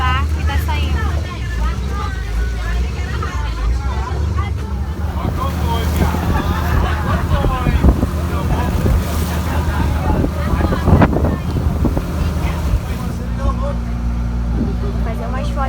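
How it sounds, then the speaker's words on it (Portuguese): A tour boat pulls away from shore at Angra dos Reis on the Costa Verde. The engine drones steadily under heavy wind buffeting the microphone, with faint water sounds throughout. "Já estamos no barco e tá saindo."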